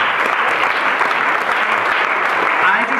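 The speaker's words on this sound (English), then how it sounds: "could we give another round of applause for that?" Dense, steady applause from a large audience at a comedy roast, a continuous wash of clapping that fills the whole moment without pause.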